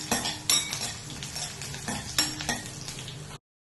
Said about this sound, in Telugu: వెల్లుల్లిపాయలు కాస్త ఎర్రగా వేగితే బాగుంటుంది